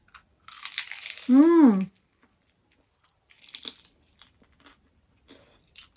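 A crunchy banana spring roll, turon, crackles under a single bite and a few chews up close, followed by an appreciative hum and then faint, sparse chewing sounds.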